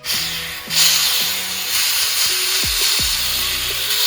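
A pressure cooker vents steam after cooking chicken korma, a loud continuous hiss lasting the whole time with faint metallic clinks and tones in the background.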